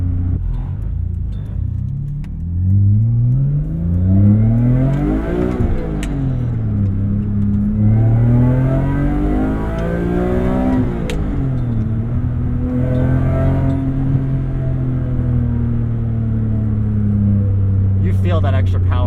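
An E46 BMW M3 track car engine revs hard through high RPM from inside the cabin, rising in pitch repeatedly between gear changes, loud and close with a voice talking over it.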